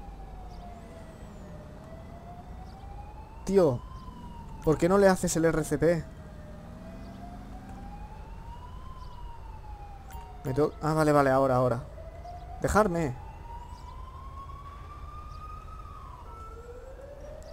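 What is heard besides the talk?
ambulance siren in the video game GTA 5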